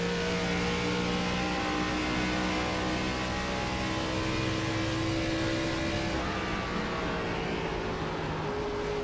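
A race car engine on a hot lap during a mock qualifying run, a loud, sustained, close engine drone with steady harmonic tones that shift slightly in pitch partway through, with no talk.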